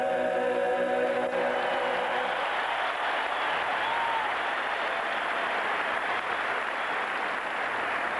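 Applause from a record crowd of 40,000 fills the Hoosier Dome in Indianapolis at the 1985 NBA All-Star Game, a dense, steady roar of clapping that holds loud throughout with no voices standing out.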